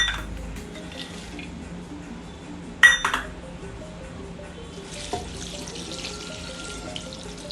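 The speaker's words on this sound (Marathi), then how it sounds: "हे 1 लिटर पाणी आहे" Water poured into a cooking pot for Maharashtrian dal palak, a steady tap-like stream in a home kitchen with a few sharp clinks of metal utensils partway through.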